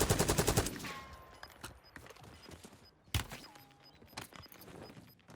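Gunfire in a PUBG match, a rapid close burst of shots at the start followed by sparse, distant single cracks and one sharp loud report midway, with scattered game noises between.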